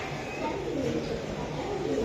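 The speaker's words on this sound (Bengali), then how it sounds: "এটা হচ্ছে নাপ্তা কবুতর" A Napta breed pigeon coos softly and steadily, held close, with a low murmuring coo running under faint background noise.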